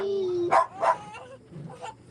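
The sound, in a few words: dog barking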